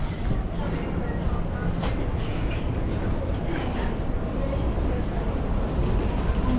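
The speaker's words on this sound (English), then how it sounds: "There is a local 7 train to Flushing Main Street. Approaching the station, please stand away from the platform edge." A local 7 subway train to Flushing Main Street pulls into the station with a loud, steady rumble and rattle that fills the whole stretch, close by and continuous.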